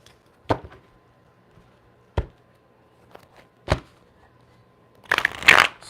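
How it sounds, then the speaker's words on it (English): A few sharp, separate card snaps ring out, followed by a brisk riffle of tarot cards being shuffled close by. "So let's get a shuffle in."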